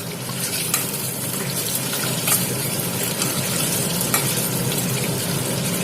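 Egg masala (kodi guddu fry) sizzles loudly in a pan, a dense continuous frying hiss with occasional soft scrapes as it is stirred.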